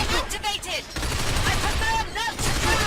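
Rapid gunfire bursts in the video game Binary Domain, with sharp automatic shots cracking in quick volleys, while players talk excitedly over the shooting.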